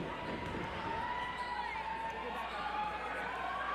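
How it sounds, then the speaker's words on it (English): Crowd noise in a high school gym during a varsity basketball game between Fort Morgan and Frederick, a steady rowdy din with a tonal whistle-like line, continuous and fairly loud with no clear breaks. "Rowdy crowd trying to get loud."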